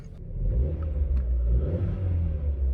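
Vauxhall Corsa engine, fitted with a new coil pack and spark plugs, revs up close by in a short low rumbling rise, steady and moderately loud with no talking.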